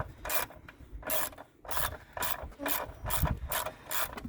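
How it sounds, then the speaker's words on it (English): A ratchet wrench tightens down the battery hold-down on a 2016 Subaru Crosstrek, with steady back-and-forth clicking strokes repeating about every half second, close and clear with no talking. "Tighten everything down so nothing wiggles and jiggles."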